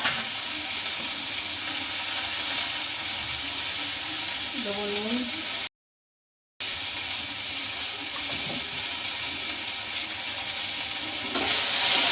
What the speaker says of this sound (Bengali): আর এই যে ভেন্ডি কেটে রাখা আলুগুলো ভাজবো